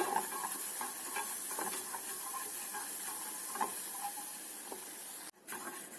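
Flour dry-roasting in a pan while being stirred makes a steady, soft sizzling hiss. Faint scraping taps from the spoon come at irregular moments, and a short break in the sound occurs near the end; no voices.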